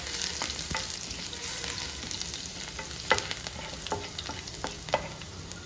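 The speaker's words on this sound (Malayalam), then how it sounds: "കടുക് നന്നായിട്ട് പൊട്ടി വന്നിട്ടുണ്ട് അതിലേക്ക് നമുക്ക് ഒരു നാലഞ്ച് കഷ്ണം വെളുത്തുള്ളി ചതച്ച് വെച്ച് കൊടുക്കാം" Crushed garlic fries in oil with popped mustard seeds for a Kerala-style potato stir-fry. A soft, steady sizzle runs under scattered stirring scrapes and a few sharp pops and clicks, with no talking.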